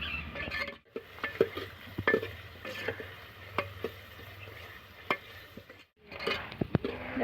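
Onions fry for village-style Gujarati tuvar dal in a pan, a steady soft sizzle broken by scraping stirs and light clinks of a spoon against the metal, close and unaccompanied by talk.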